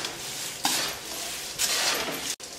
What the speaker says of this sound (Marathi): मी आता याला मिक्स करून घेते.